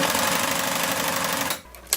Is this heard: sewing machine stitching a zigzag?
yes